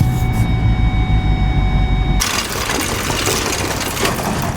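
A Land Rover V8 with a cylinder misfire idles close by with a low, humming rumble, then the sound cuts abruptly to a louder, hissing broadband rush for the rest of the clip.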